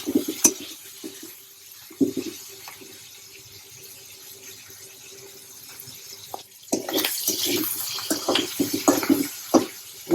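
Prawn heads frying in a pan: a low, steady sizzling hiss broken by spatula knocks and stirring clatter, growing louder and busier near the end.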